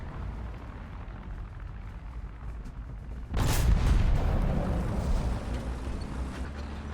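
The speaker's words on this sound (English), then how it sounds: "Oh, more P8 bombs." A bomb strikes in a tank video game with an American T34: one heavy, sudden boom lands mid-scene and rolls out into a long, low rumble over steady background noise.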